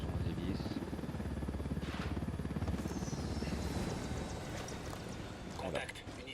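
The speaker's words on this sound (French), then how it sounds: "avec cet hélicoptère, donc on doit faire attention aux hélices" Helicopter rotors in Ghost Recon Wildlands thump in a fast, dense, steady beat that stays loud throughout, while someone talks over the engine noise.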